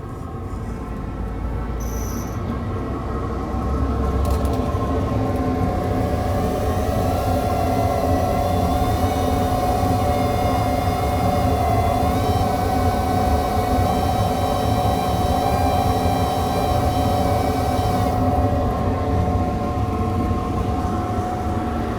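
A shop dust collector pulling air through Nordfab quick-fit ductwork, with a loud, steady whooshing roar and a faint whine that holds for about fifteen seconds before settling, no talking over it.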